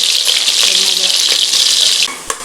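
Chopped onions hitting hot oil with cinnamon and cloves, giving a loud, continuous hiss and sizzle that eases slightly near the end, broken by a brief clink of stirring.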